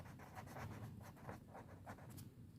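Pen writing on paper during an accounts lesson, a faint close scratching in short repeated strokes that form several quick words, with no talk.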